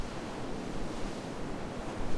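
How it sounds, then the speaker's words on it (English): Rushing waterfall water in the Grandia 2 HD video game, a dense, steady roar of spray that fills the short moment evenly with no voices. "Are we going over the waterfall?"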